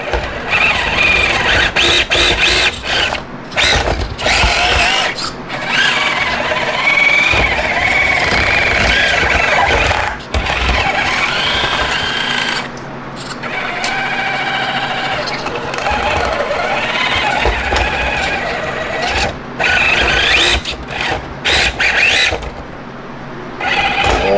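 An Injora MB100 motor in an RC car whines under throttle, rising and dropping in bursts with brief pauses, close and loud, while a person talks over parts of it.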